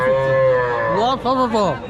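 Cattle low at a livestock market with one long, loud, nearby moo, then a second wavering call, with little else around it.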